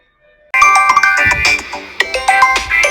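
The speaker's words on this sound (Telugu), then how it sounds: "ఈ సెల్ ఫోన్ తోటి ప్రశాంతతే లేకుండా పోతుందబ్బా" A mobile phone ringtone bursts in loud and close after a brief silence, playing a bright, repeating electronic melody.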